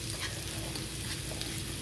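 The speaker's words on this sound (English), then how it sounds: "I'll take just two bananas and stir them here too, so they could get a little bit juicy" Two small backyard bananas stirred in a pan, a steady soft sizzle with faint scraping under it, close and continuous, with no talking.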